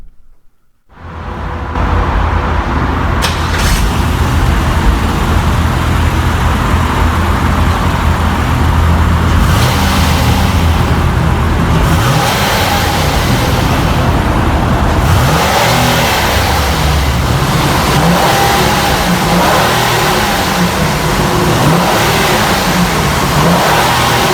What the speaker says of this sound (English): listen to the exhaust note from the outside